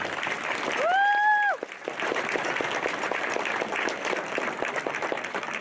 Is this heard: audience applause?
yes